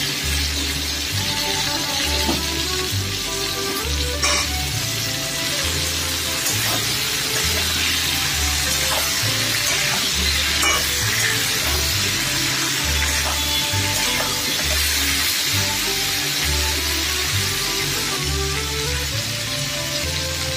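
Pieces of pointed gourd fry in a pan with onion and tomato, giving a continuous soft sizzle beneath steady background music.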